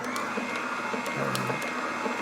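A juicer machine starts up while pomelo and pomegranate juice is being made, giving a steady close motor whir with a high whine and a few faint clicks, with no talk.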